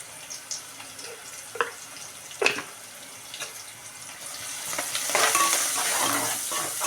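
Onion pieces with a pinch of turmeric being stirred in a pan for potato curry: a few scattered scrapes and taps from the spoon, then the sizzle swells into a steady hiss toward the end, heard close.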